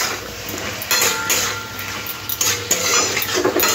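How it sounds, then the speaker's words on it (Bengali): Bottle gourd being stirred with ground coriander and cumin in a pan: close clinks and scrapes from a utensil against the pan over a light sizzle, no voices. "ভালো করে লাউয়ের সাথে একটু মিশিয়ে নেব"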